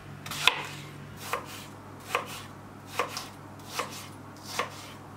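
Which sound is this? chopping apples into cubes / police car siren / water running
chopping apples into cubes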